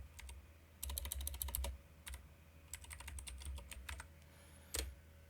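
A password being typed on a computer keyboard, with bursts of rapid keystrokes separated by short pauses, close and fairly quiet.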